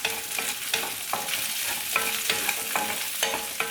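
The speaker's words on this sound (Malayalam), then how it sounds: "ഈ പച്ചമുളക് ഇട്ട് കൊടുക്കുന്നുണ്ട്, പിന്നെ ചെറിയുള്ളി. ഇതാദ്യം ഒന്ന് നമുക്കൊന്ന് വഴറ്റിയെടുക്കാം ചെറുതായിട്ടൊന്ന്" Green chillies and small shallots sautéing in oil for sambar, a dense continuous sizzle broken by regular scraping stirs of a spoon against the pan, close up and without speech.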